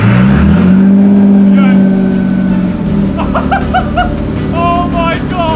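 A barn-find Nissan Skyline R32, run without coolant after a rebuild, idles and revs loudly up close, its engine drone steady under excited talk and shouting.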